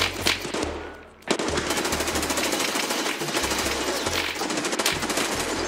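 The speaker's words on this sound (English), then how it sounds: "Now we got shots, now we gotta watch out." Sustained automatic gunfire in Escape from Tarkov, a dense rapid stream of shots that pauses briefly near the start and then runs continuously at a loud, close level with no talk.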